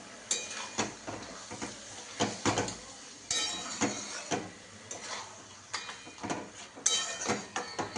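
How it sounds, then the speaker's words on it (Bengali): A utensil stirs and scrapes mutton curry with spices in a cooking pan, giving irregular close clinks and scrapes over a faint sizzle. "এখন এটা কষতে থাকতে হবে, যত নাড়বো তত এটা নরম হবে।"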